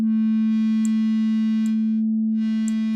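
A Moog Model 15 modular synthesizer holds a steady, loud sustained tone through its opened filter bank, with bright upper harmonics swelling and fading as bands are blended in, one brief gap near the end, no talk.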